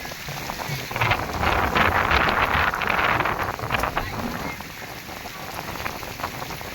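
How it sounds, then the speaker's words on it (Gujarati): Heavy rain pours down in a steady, dense hiss with a surge in the middle, close and continuous, with no voices. "વરસાદ આવી ગયો છે, ફૂલ વરસાદ આવી ગયો છે"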